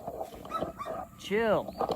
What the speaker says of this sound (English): Sorry for the dog, guys.